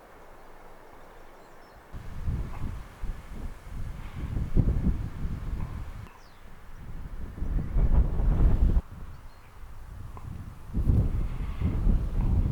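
Strong wind on the open coast at Ravenscar near Robin Hood's Bay, buffeting the microphone in loud, low rumbling gusts that rise and fall over a steady roar.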